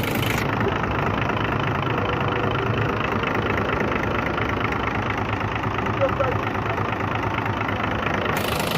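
A Hino FM 500 truck's diesel engine runs steadily at idle for the whole stretch, a constant low rumble with no breaks.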